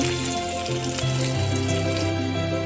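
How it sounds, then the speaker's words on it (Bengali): Carrot frying in a pan for a Bengali shukto, a steady broadband sizzle that holds close and even throughout, with low tonal hum lines beneath and no talk. "এবার গাজরটি ভেজে নেব"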